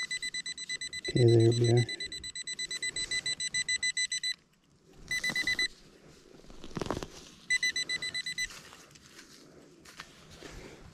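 A metal detector at a campground gives a run of repeated electronic beeps in pulsed bursts, with a louder low tone early on and brief quiet gaps; a person speaks briefly nearby.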